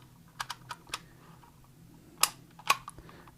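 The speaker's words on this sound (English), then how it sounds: "I'm gonna type out the word lace." Keys on a small typing device clack out a short word, a few sharp isolated taps followed by two louder strikes, close and alone in a quiet room while crafting in a journal.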